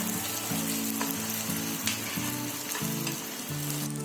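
Egg omelette mixture for a mushroom cheese omelette sizzling and frying in a pan, a steady crackling hiss close up, with a faint repeating tonal hum underneath.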